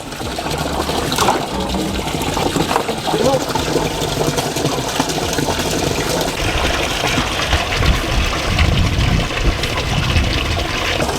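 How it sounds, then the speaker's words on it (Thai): A THAISIN submersible wastewater pump is lowered into water on a rope, with continuous splashing, gushing and trickling close by. "ผูกเชือกเข้ากับมือจับตัวปั๊มแช่ หย่อนตัวปั๊มลงไปในน้ำ"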